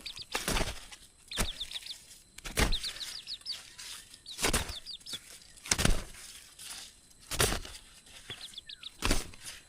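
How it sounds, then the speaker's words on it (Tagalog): Several broadband crackling bursts, like wing flaps or rustling, punctuate the clip as a chicken perches on a person's shoulder, with faint high chirping calls between them; no clear clucking stands out. "Gandang alaga ang manok."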